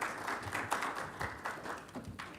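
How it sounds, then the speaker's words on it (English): Moderate audience applause at a Native Edge Institute gathering in Anchorage, Alaska, with irregular overlapping claps of varying strength, fairly quiet and slightly distant. "Let's give her a big round of applause."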